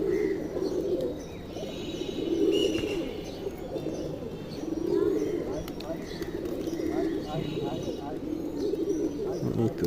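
A pigeon in a pigeon house coos repeatedly in low rolling phrases every few seconds over a steady ambient hum, with faint chirps mixed in.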